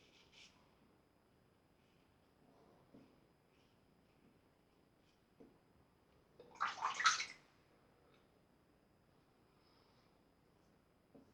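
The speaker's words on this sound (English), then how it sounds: "Now just wet the blade there." A razor blade is dipped and swished in water during a wet shave, making a short, close splash and slosh midway through an otherwise quiet stretch with faint handling noises.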